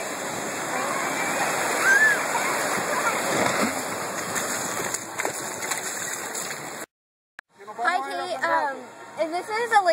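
Water rushes and splashes steadily at a water park lazy river in Florida, a broad continuous wash, followed briefly by a voice talking.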